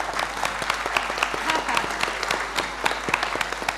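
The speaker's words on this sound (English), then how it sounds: "Give yourself a round of applause." An audience applauds at a panel on bisexual identities in the arts and media, giving sustained, moderately distant clapping with individual sharp claps standing out, while faint voices murmur underneath.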